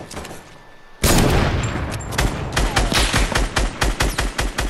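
Battle royale shooter gunfire in a three-man squad match: a sudden loud fusillade of rapid automatic shots, then a steady rhythmic string of punchy close bursts, with no talk.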